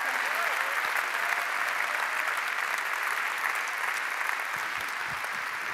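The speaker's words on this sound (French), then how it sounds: "J'aimerais que la salle entière applaudisse l'initiative de cette jeune fille, Céline Carnal, sous vos applaudissements" Dense, sustained applause from a large audience, steady clapping filling the whole stretch without a break, loud and close.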